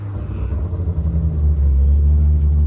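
A childhood dream car driven on Japanese roads, its manual close-ratio gearbox in gear, rumbles with a deep, steady engine note that swells louder and fuller as it pulls, heard from inside the cabin.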